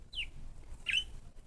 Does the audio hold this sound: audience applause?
no